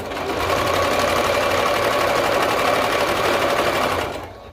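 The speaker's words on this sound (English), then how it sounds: "I sew over these needles with my sewing machine" A sewing machine sews fabric steadily, its rapid mechanical stitching loud and close for about four seconds before slowing to a stop.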